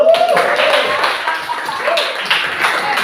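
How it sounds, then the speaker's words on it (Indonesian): Classroom students clap for a presenting group after a lesson, a brief, loose burst of hand claps with a voice mixed in, fairly close and dying away within a few seconds. "berikan tepuk tangan dong"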